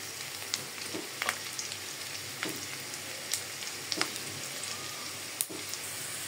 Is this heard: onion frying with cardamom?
yes